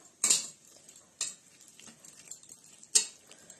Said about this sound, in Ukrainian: Розмішуємо.